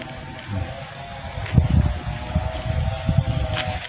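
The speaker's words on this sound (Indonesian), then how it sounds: "nyalakan mesin ya." In a rocky durian orchard, a water pump engine starts to fill a storage tank, running with a steady low hum and uneven mechanical chugging that grows slightly louder after the first half second.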